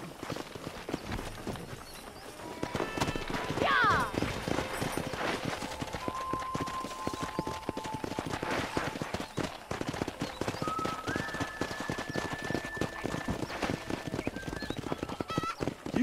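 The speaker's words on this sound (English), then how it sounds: "Let's see if we can't wrangle some horses." Wild horses in the Red Dead Redemption video game trot with steady, rhythmic clip-clop hoofbeats throughout, with occasional neighs and whinnies rising over the busy game soundscape.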